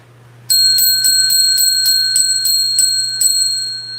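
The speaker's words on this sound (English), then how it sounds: "I got to ring the bell." A small metal bell is struck rapidly and repeatedly, about a dozen bright, ringing dings in a steady rhythm, loud and close over a low background hum, with no talk.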